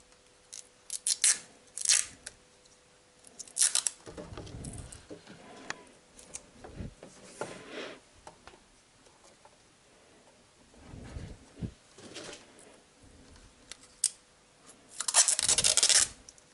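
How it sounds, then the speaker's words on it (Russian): Cheap adhesive tape is torn and pulled in a garage while a funnel is tied to a Honda's hood support for adding oil: several short, sharp ripping bursts with quieter crinkling and handling noises between them, close to the microphone. "скотч паршивый рвется"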